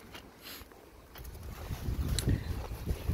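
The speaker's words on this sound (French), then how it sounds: "Et le vent s'est levé depuis hier soir" Wind blows outdoors in the Ardèche countryside, a low rushing gust that builds and buffets the microphone, growing louder toward the end.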